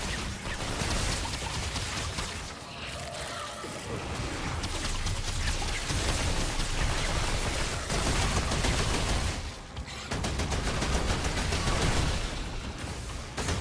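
Rune pistol gunfire from Remnant 2 sounds as dense, continuous rapid shots layered over game effects and music. The volley stays loud for nearly the whole stretch, with only a brief dip partway through.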